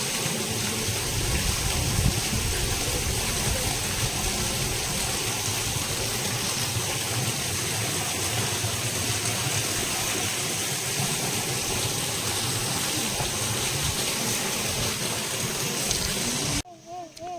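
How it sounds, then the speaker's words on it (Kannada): A stream of water gushes steadily into the spring tank at Talacauvery in Coorg, a continuous broad rushing that holds even across the clip, with faint voices underneath before it cuts off abruptly near the end. "ನೀರಿನ ಝರೆ ಕಾಣಿಸುತ್ತೆ."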